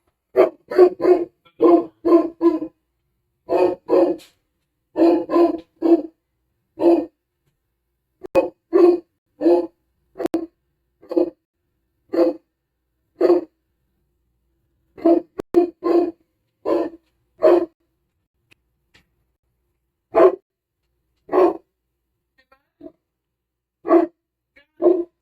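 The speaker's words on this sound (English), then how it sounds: "you done barking?" A dog barks in short bursts and quick clusters, loud and close in a quiet room, with pauses of silence between volleys and no talking.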